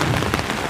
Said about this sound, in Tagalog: Inabutan tayo ng ulan mga kabayan.